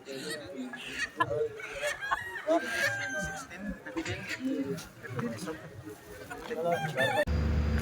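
Chickens cluck and a rooster crows amid a busy outdoor market clamor in Africa, with people talking nearby throughout.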